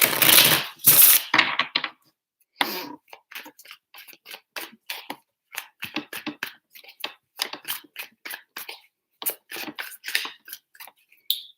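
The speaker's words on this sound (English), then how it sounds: "Three shuffles for Leo." Tarot cards shuffled by hand up close, a riffling burst at first followed by a long run of quick, irregular papery flicks and taps, with no voices over them.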